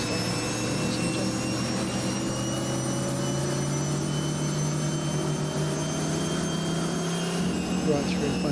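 A modded truck's custom turbine engine in American Truck Simulator gives a continuous whining hum with steady tones that rise slowly in pitch, alongside a low cabin drone, loud and unbroken throughout.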